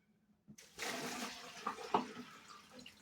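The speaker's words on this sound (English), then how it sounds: "dump this water out" Water dumped from a dish into a sink, a sudden splash followed by a steady close gush that drains away over a couple of seconds.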